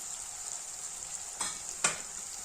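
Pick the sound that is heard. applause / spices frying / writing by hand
spices frying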